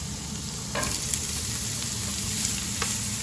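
Chopped garlic and ginger frying in a pan, a steady close sizzle of hot oil with occasional sharper crackles and stirring scrapes, no voices.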